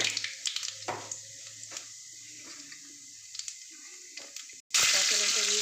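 Nigella seeds (kalo jeere) tempering in hot oil for a Bengali lote fish chorchori; soft kitchen clinks and scrapes give way to a sudden loud, close sizzle that fills the final second.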